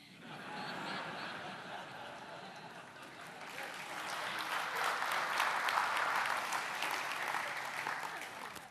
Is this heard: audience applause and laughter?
yes